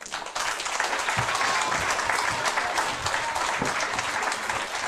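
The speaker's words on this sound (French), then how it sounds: "je pense qu'on va vous applaudir sur votre retour aux loges" An audience applauds students as they return to the dressing rooms, the clapping starting suddenly and holding steady, dense and fairly loud, with a few louder claps nearby.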